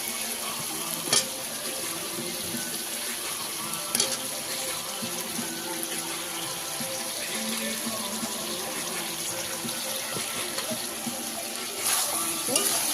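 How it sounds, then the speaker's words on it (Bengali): Meat and potatoes fry in a pan with tomato paste while being stirred, giving a steady sizzling hiss broken by a few sharper clinks and scrapes, close and continuous with no talking. "এবার এর মধ্যে আমি আলুগুলো দিয়ে দেবো, দিয়ে ভালো করে কষবো।"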